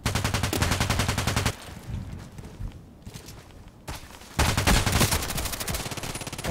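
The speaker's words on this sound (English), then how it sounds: "Shooting at us." Rapid automatic gunfire from the online shooter Contract Wars, loud bursts of closely spaced shots at the start and end with a quieter stretch of distant, scattered firing and footsteps between.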